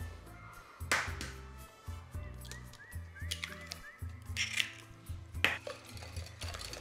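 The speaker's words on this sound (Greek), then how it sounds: "ανακατεύω" A spoon stirs egg, sugar and melted butter in a bowl for traditional Greek loukoumades, with repeated close scrapes and light clinks against the bowl in an uneven rhythm.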